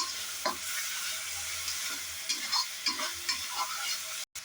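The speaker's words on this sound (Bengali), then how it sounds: "দিয়ে দিলাম মশলাগুলো, ওটাকে ভালো করে নেড়ে ছেড়ে" Spices being stirred into a frying mixture in a pan, a soft continuous sizzle with intermittent scraping strokes and light taps of the spoon, fairly quiet and close, no voices.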